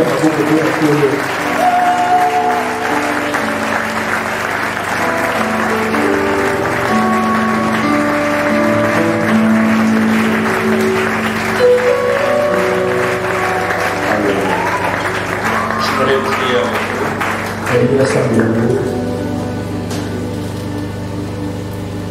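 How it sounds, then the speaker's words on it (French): A church congregation applauding and cheering the Lord, loud continuous clapping mixed with shouts and voices filling the hall, with music tones running underneath throughout. "nous acclamons très fort le Seigneur"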